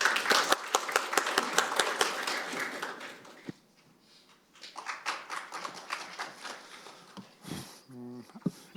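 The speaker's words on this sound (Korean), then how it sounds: "큰 박수 부탁드리겠습니다" Audience applause fills a formal forum at the National Assembly on construction safety policy: dense, fairly loud clapping for about three seconds, then a brief lull before scattered sounds and voices resume.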